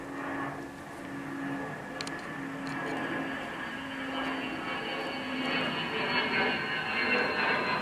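A fixed-wing airplane passes overhead outdoors, its steady broadband jet drone holding level and swelling slightly toward the end, with no talk.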